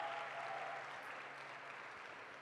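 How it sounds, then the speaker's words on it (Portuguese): A church congregation applauds during a celebration service, a soft, distant wash of many hands clapping that holds steady, with a low background hum. "Pode ser mais forte essa salva de palmas ao Senhor."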